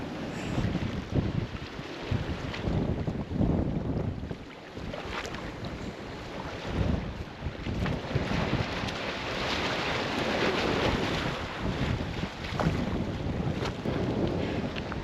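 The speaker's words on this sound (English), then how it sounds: "Windy" Strong gusty wind buffets the microphone in a steady roar near the water at Honeymoon Island, Florida, with brief lulls but no clear voices.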